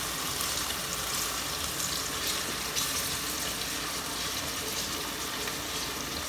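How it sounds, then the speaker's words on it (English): Onion frying in a pan while cooking country chicken dum biryani: a steady, even hiss and crackle of sizzling oil, continuous and fairly quiet, with no talking. "Need to fry the onion a little bit"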